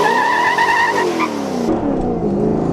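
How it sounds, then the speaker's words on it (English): A car accelerates hard from a standstill toward 60 mph with its tires spinning. The engine note is loud and close and climbs steadily, breaks briefly at a gear change, then keeps rising, with no voices. "A lot of tire spin, and that is 60."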